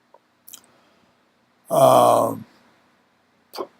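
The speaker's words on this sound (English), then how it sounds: "Is he belching?" A man belches once, loud and close, a long rough eructation lasting most of a second, with faint small noises before and after and no talking.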